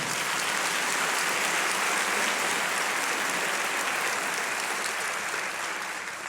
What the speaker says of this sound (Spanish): Damos un aplauso a esta intérprete hermosa.